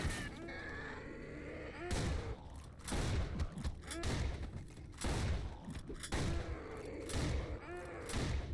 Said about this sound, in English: God, this shotgun sucks ass.